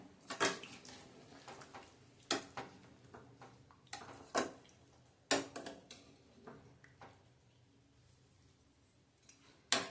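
A spoon scraping and knocking in a pot of Malvani chicken rassa curry as steamed water is mixed in, sparse irregular clinks and scrapes, close and fairly quiet with pauses between strokes.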